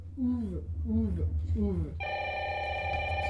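A telephone rings with a steady, bright electronic tone that starts partway through, after someone speaks French in a sing-song voice.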